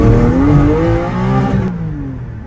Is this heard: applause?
no